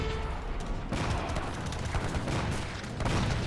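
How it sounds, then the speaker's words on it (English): Gunfire and grenade blasts in an Age of Empires 3 battle, a dense, continuous volley of overlapping musket shots and explosive pops with no pauses. "Heavy cannons are falcons getting ripped apart by the grenades."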